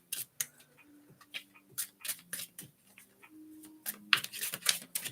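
Tarot cards being shuffled by hand in a series of quick crisp riffling snaps and soft slaps, irregular bursts with short pauses, close and fairly quiet.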